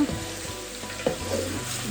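Onions frying in a pot for crockery-style biryani, a continuous close sizzle with faint stirring scrapes and small pops throughout.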